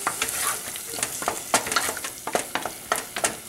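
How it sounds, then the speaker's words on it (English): A pot of beef and lamb meatball curry with sweet potato and vegetables is stirred vigorously, a spoon scraping and clacking in quick irregular strokes over a steady bubbling sizzle. "And then you stir vigorously to make sure that no lumps form"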